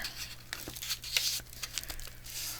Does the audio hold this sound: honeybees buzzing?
no